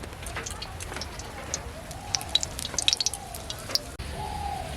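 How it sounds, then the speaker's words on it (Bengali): Biuli dal gujiya fry in hot oil with a steady close sizzle and scattered sharp pops and crackles. A faint voice is heard at times. "এটা তেলে ভেজে নেব।"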